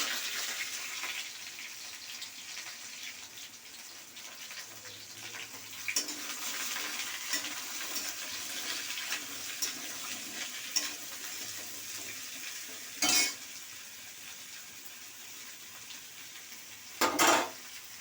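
Chopped vegetables fry in oil tempered with five-spice for a vegetarian bottle-gourd-greens chorchori, a steady close hiss of sizzling with occasional clinks and scrapes of the stirring utensil against the pan.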